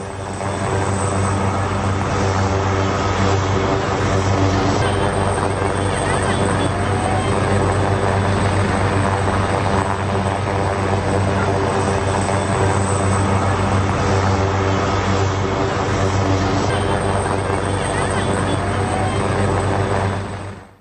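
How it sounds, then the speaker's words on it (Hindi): Helicopters fly overhead during an evacuation of ministers amid Nepal's Gen-Z protests, their steady, loud engine and rotor drone running unbroken throughout. "हेलीकॉप्टर से मंत्रियों का रेस्क्यू किया जा रही है"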